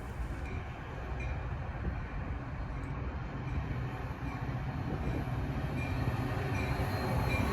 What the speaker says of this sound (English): The next engine to arrive was Metro Unit 176, Village of Bartlett.